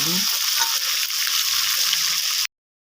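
Rohu fish sizzling in hot oil in a pan, a steady close crackle and hiss that cuts off abruptly before the end.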